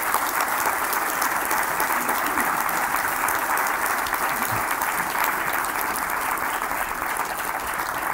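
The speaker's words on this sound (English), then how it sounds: "Please give a round of applause for the three Professor Emeritus here." A town hall audience claps in steady, sustained applause that stays evenly loud from start to finish, with no pause and no voices rising above it.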